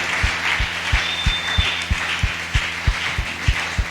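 A church congregation claps together in a steady, evenly spaced rhythm, with low thudding beats about three per second under a faint crowd murmur.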